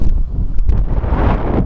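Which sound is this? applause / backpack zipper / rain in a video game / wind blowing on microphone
wind blowing on microphone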